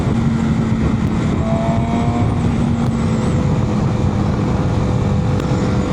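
A 200 hp MV Agusta motorcycle pulls hard under acceleration, a loud continuous engine drone heard from onboard with dense wind rush, the pitch climbing steadily through the gear without a break.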